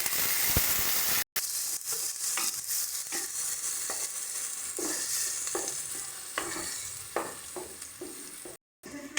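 Onion paste sizzling in hot oil in a pan, a continuous close sizzle with repeated scraping and stirring clicks, broken by two brief silent cuts, no voices.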